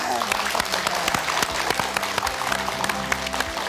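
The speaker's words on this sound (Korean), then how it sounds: "여러분 큰 박수 주십시오" Studio audience on a Korean KBS talk show breaks into loud, sustained applause, dense even clapping that fills the room steadily from start to finish.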